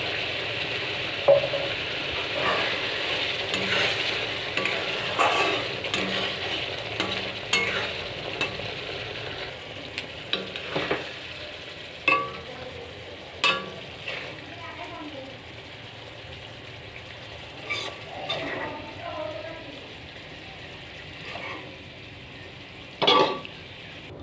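Pointed gourds being stirred through a yogurt gravy in a pan, with steady frying sizzle and scattered spoon scrapes and taps against the pan, while a voice talks over it.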